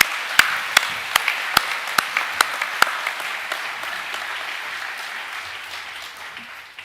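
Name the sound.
applause for a student at an awards assembly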